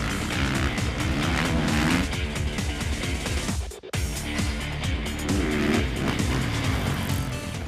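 A 2016 Kawasaki KX450F motocross bike with a Showa SFF Air TAC fork riding around the track, its engine revving loud and close with shifting pitch and a short drop midway.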